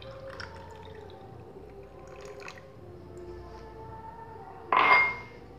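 Ice cubes clink into a glass while an iced mixed drink, es campur, is being prepared, with a few soft drips and taps and then one brighter, louder clink near the end.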